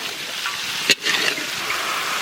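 Green chillies dropped into hot mustard oil in a wok for a Bengali mutton curry, giving a sudden sharp burst and then a steady crackling sizzle with light stirring, close and moderately loud, no voices.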